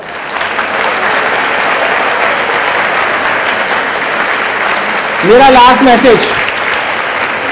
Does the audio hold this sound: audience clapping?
yes